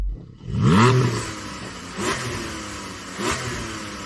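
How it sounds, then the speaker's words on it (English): A BMW and a Porsche sports car rev their engines, with one sharp rising roar near the start followed by two shorter blips, heard fairly close against steady engine rumble. "Faceless Racing Driver number 2, can you rev up your Porsche, please?"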